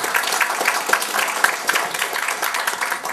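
Audience applause at a Brazilian telecommunications workshop panel, a steady moderate clapping from a roomful of people, continuous and slightly distant for about three seconds.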